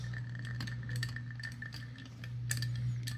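Long spoon stirring an anejo old fashioned around a clear ice sphere, giving a few light clinks against the glass over a low steady hum, soft and close.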